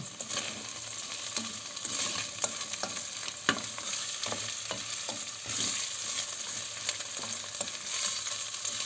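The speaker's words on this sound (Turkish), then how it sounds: "karıştırıyorum" Rice pilaf being stirred in a frying pan, with a steady soft sizzle and scattered light scrapes and clinks of the utensil against the pan, close and continuous with no talking.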